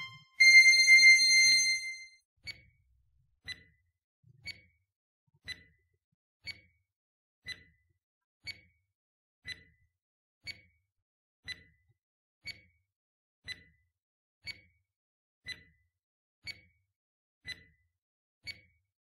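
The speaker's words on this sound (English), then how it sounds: "We have 20 seconds and timer starts now." A countdown timer ticks off twenty seconds, one short clean beep about every second in a steady rhythm. A brief louder chime opens the sequence, and the beeps then continue alone in silence.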